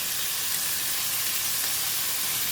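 Mustard greens (sawi) with fishballs sizzle steadily in a hot pan during a stir-fry, giving a continuous bright frying hiss with no clear break and no talking.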